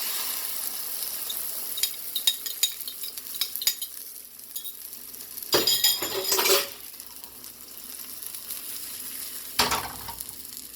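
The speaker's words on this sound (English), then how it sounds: "decrease the flame and add this mixture into this pan." An eggplant and egg omelette mixture, with peppers, poured into a hot pan bursts into a loud sizzle in two strong surges, followed later by another brief sizzle, with scattered utensil clinks and no talking.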